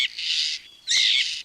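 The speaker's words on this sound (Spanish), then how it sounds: "el dulce canto de las aves puede transformarse de repente en una estridente alarma" Two loud, shrill bird alarm calls ring out close to the microphone, each a harsh, piercing screech lasting about half a second, with a brief pause between them and no talking.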